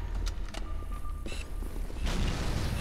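Grenades go off in Halo 3 during a Carnage match, with scattered sharp clicks and thumps followed by a broad, heavy explosive burst that sustains near the end.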